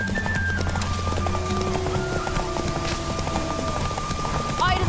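Geralt's horse Roach galloping in Witcher 3, a quick rhythmic clip-clop of hooves with a whinny under steady game music and a voice talking over it.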